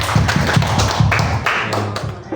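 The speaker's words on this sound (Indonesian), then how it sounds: "Tepuk tangan untuk acara diskusi kita hari ini" Group applause closing a school discussion session on positive culture, a dense burst of close, rapid clapping that carries on steadily for a couple of seconds.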